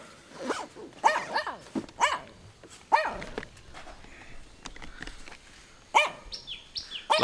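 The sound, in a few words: small dogs barking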